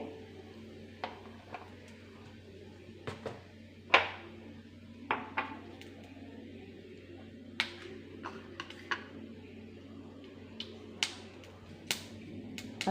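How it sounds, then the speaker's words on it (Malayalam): Scattered small pops and ticks of mustard seeds bursting in hot oil, irregular and fairly quiet over a low steady background hum. "കടുക് പൊട്ടിയിട്ടുണ്ട്"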